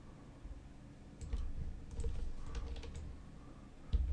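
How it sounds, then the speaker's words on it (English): Keys on a computer keyboard are tapped in a few scattered, soft clicks while a shape is nudged into place during a logo design, the presses faint and close against a quiet room hum. "I'll use the keyboard for minor adjustments and to move this one up slightly."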